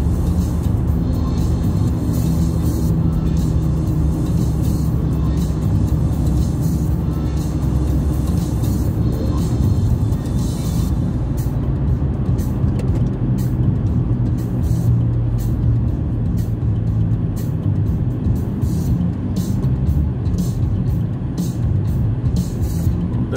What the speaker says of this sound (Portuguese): Eu vendo os carros passar ali